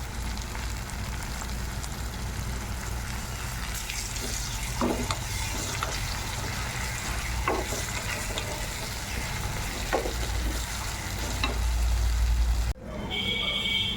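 Tomatoes and onions frying in oil for chicken curry, a steady close sizzle with a few soft stirring clicks, ending in an abrupt cut to a quieter hiss.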